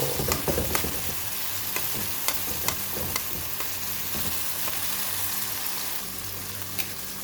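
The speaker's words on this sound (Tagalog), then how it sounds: "and now, magluluto na tayo sa ato ang bagoong" Bagoong, a fermented shrimp paste, sautés in a pan with a steady low sizzle, punctuated by sharp, regular scrapes and taps of a spatula stirring it, close and fairly even throughout, with no talking.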